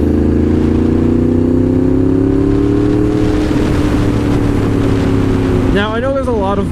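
A loud Yamaha MT-10 motorcycle engine runs close by at a steady, heavy idle before revving up sharply near the end, with no voices over it.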